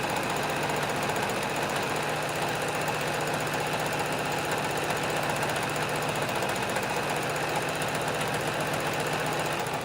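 A sewing machine stitches a jelly roll fabric rug with a fast, continuous mechanical whir and rattle, close and steady throughout.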